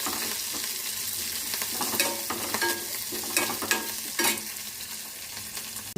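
Onions frying in a pan for cabbage curry, a loud continuous sizzle broken by repeated scraping strokes of a spatula, close up and with no speech.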